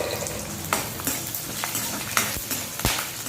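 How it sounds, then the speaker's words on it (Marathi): Whole spices and garlic frying in a kadhai of hot oil for a black-pea amti, a steady close sizzle broken by several sharp scrapes and clatters of a spoon stirring against the pan. "तेल चांगले गरम झाले की त्यात सगळा खडा मसाला व लसूण घाला आणि चांगले परता।"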